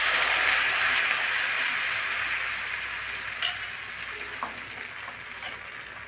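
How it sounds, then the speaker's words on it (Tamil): Capsicum omelette mix frying in hot oil in a pan, a steady close sizzle that fades slightly over time, with a few faint utensil clicks and no talking. "மிக்ஸ் பண்ணி வச்சிருந்த ஆம்லெட் மிக்ஸை இப்போ ஊற்றிக்கலாம்."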